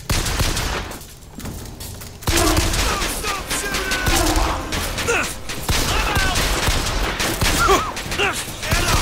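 Gunfire aimed at an enemy in Bioshock Infinite crackles in loud, rapid volleys over game noise, with someone talking intermittently between the shots.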